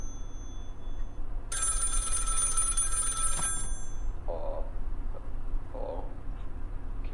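Telephone ringing in a FNAF fan game set at Fredbear's Family Diner: one loud electronic bell ring lasting about two seconds over a low background hum, followed by a couple of faint, short blips.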